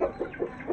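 Chickens feeding close by give a quick run of soft, rhythmic clucks, about four pulses in under a second, with no talking.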